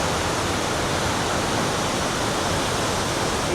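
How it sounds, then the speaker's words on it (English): Cumberland Falls in Kentucky roars as a steady, dense wash of falling water, loud and unbroken, with no voices. "there's water rising from the waterfalls"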